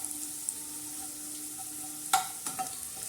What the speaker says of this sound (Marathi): छान असा तडका असा जिऱ्याचा मस्त असा बसलेला आहे